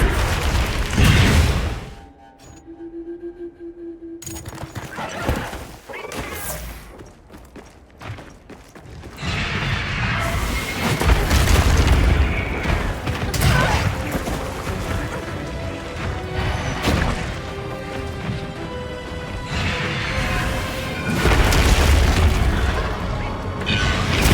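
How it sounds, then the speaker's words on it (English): A crystal exploding in Monster Hunter Wilds, set off by a monster's breath, amid loud repeated booms and crashing impacts, with a brief quiet lull before the combat noise surges back. "Crystal exploded. Must have been from contact with its breath."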